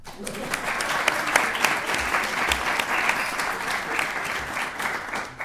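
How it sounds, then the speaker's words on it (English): A roomful of people clap steadily for several seconds, a dense, even applause that holds without fading. "I want to give him a round of applause, even though he's not in the room."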